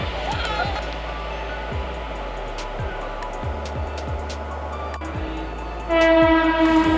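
A train at Mirzapur railway station at night, with rhythmic clacks of wheels over rail joints and a steady rumble, then a loud horn blast near the end.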